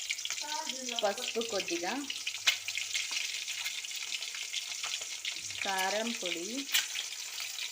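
Eggs fry in a pan for an egg masala curry, making a steady, close sizzle that runs throughout while a person talks over it in short phrases.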